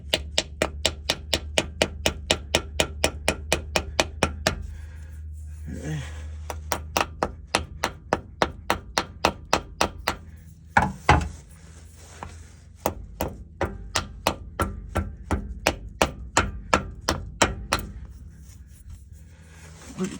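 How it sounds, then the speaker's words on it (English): A pinion seal on a 2007 Chevy Tahoe 4x4 differential being tapped into place with a screwdriver handle: sharp, evenly spaced knocks in long runs with short pauses, close and crisp, and brief low voice sounds between strokes. "in my case, screwdriver handle and just tap"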